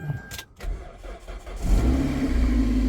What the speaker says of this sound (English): turn the key, which I have got, and start her up